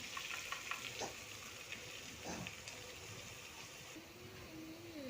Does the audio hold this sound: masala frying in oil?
yes